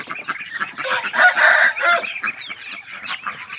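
Chickens and ducks clucking close by in a farm pen, a dense run of overlapping clucks and squawks that swells midway and then trails off into scattered calls.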